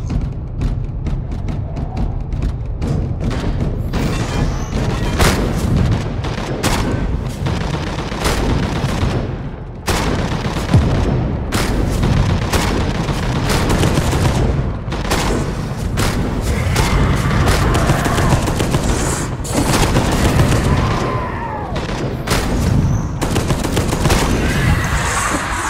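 Heavy weapon fire in the video game Space Hulk Deathwing, a long unbroken barrage of loud booming shots and rattling bursts, close and dense, with brief lulls around the middle.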